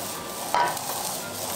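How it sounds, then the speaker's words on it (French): Mushrooms hit a pan of melted butter and sunflower oil, giving a close, steady sizzle with a brief louder burst as they go in and are stirred. "Le beurre est fondu, j'y mets mes champignons."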